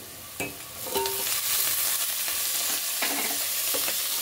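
Onions frying in a pan with mint and coriander for a plain biryani, a loud continuous sizzle broken by a few sharp stirring clinks and scrapes.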